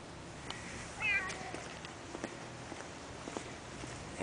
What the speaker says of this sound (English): Oh, say hello to the cat.